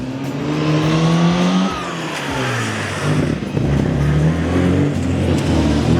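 Classic Minis revving in an arena display at a National Metro Mini Show at the British Motor Museum: loud, close engines rise and fall in pitch as they accelerate, with a continuous throaty roar and no talking.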